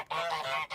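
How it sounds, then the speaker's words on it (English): A single loud, nasal goose honk plays as a sound effect, close and clear, with a brief gap and a second short honk beginning at the end. "I think we deserve a celebratory honk for that"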